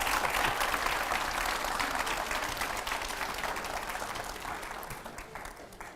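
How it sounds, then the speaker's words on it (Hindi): Loud, dense applause from a large crowd, sustained and gradually tapering off over several seconds. "जोरदार तालियां"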